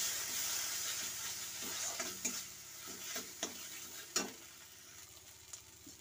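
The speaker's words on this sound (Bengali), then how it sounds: "দিয়ে একটু হালকা নেড়ে নেব" A spoon stirs ground mustard and cumin paste into fish curry as it fries in the pan, with a steady sizzling hiss and a few sharp scraping knocks spaced through the mix.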